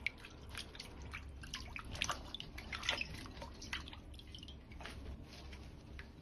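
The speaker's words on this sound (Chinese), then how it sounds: "再放入水中清洗干净" Peeled celtuce stems being washed by hand in a basin of water, with soft splashes, drips and squishy handling sounds at close range and no talking.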